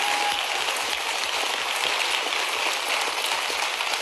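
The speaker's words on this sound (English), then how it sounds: "he deserves a round of applause." Steady, dense applause from an audience at a live political event, a continuous even wash of clapping with no voices over it.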